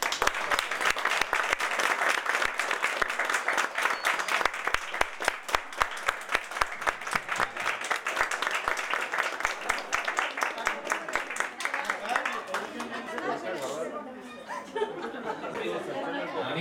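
Loud, sustained applause at a reunion gathering, with dense rapid clapping from a crowd, chatter and some laughter, fading near the end.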